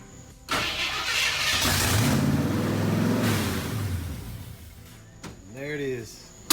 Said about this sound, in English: it's got open exhaust and it's kind of late at night, but it'll actually sit there and idle pretty good